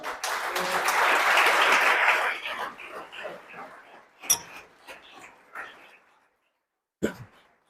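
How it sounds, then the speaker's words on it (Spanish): A church congregation applauds at a sermon, a loud burst of clapping that lasts about two seconds and thins into scattered claps and voices, with a few sharp isolated claps near the end. "Aplaudo al Señor, por favor."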